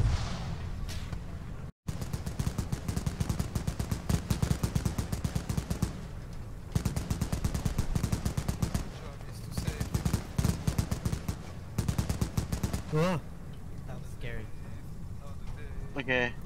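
Rapid machine gun bursts ring out in a first-person shooter set around the Great War era, repeated volleys crackling throughout amid other battle noise, with players talking over the gunfire.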